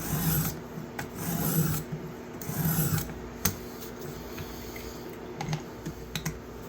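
Steel blade of a serpentine pocket knife swiped across a sharpening stone, several rhythmic rasping strokes up close followed by a few lighter scrapes and taps.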